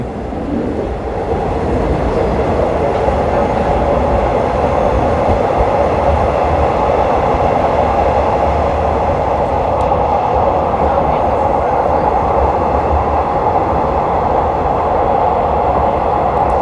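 A train rolls steadily along an elevated railway from Don Mueang toward Krung Thep Aphiwat Central Terminal in Bangkok, with a constant deep rumble and rattling hum from the cars and wheels, and no voices.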